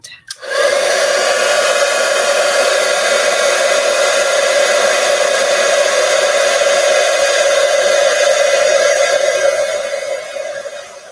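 A heat tool blows hot air onto a card-making embellishment, a loud, steady whooshing whir that runs continuously for about ten seconds before easing off, with no talking.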